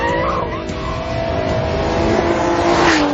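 A GT car is driven hard on a track lap, its engine roaring steadily and loudly while the tyres squeal through a slide.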